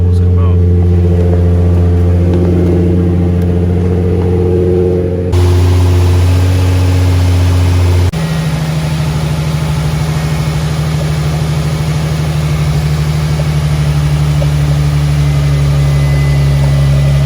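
A Nissan 350Z engine idles loudly and steadily with the AC and heater on full blast, its low hum shifting pitch slightly a couple of times while air bubbles purge from the coolant.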